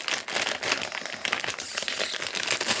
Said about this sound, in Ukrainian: Ну, і в нас останній пакетик.